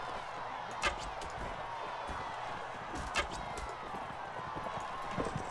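Horse hooves clop in Mount & Blade: Warband, a fast galloping patter over steady battle noise with a couple of louder thuds.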